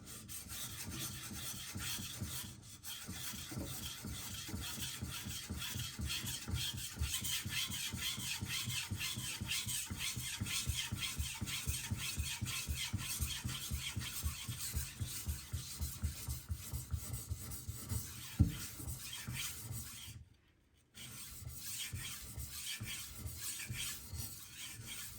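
A Karaku AS Gyuto 210mm knife is stroked back and forth on a sharpening stone to break off the burr, giving a continuous close scraping rasp in steady quick passes with a brief pause near the end.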